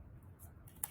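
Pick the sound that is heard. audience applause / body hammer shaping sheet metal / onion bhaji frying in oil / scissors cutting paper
scissors cutting paper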